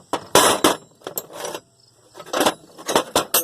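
Craftsman distributor wrenches clink and jangle while being handled, several bright metallic clatters in uneven bursts, close by, with brief pauses between.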